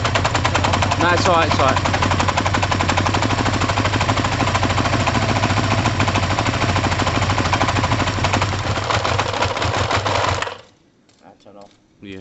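A Kawasaki ZL600 motorcycle engine runs after starting, with a loud, rapid mechanical clatter and rumble up close for about ten seconds before it shuts off. Someone speaks briefly over the running engine.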